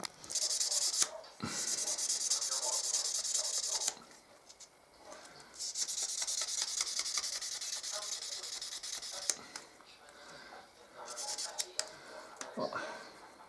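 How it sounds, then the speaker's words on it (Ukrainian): Sandpaper rubbing back and forth over a small metal part being polished to a shine for a homemade balancing toy, several long sustained gritty scraping passes with brief pauses between them, fairly close. "тепер беремо наждачечку і поліруємо до блеску"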